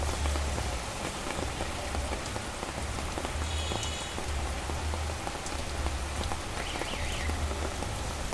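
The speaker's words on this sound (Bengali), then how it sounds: "এত পরিমাণ বৃষ্টি হচ্ছে এখানে" Heavy rain with large drops falling, a loud continuous hiss of water striking the ground nearby, punctuated by individual heavier splats and carried on a low rumble, with no one speaking.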